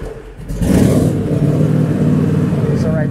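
A 2022 John Deere X394 four-wheel-steer riding mower engine catches and settles into a steady, close mid-pitched running hum after a brief quieter start.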